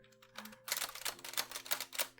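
Keys struck on a typewriter, a quick run of crisp mechanical clacks close and soft, starting with a few light taps and then a steady rhythmic patter.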